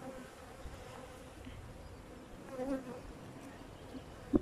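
Honeybees buzzing around an opened beehive during a spring inspection, a steady close hum of many insects with a brief louder pass near the end.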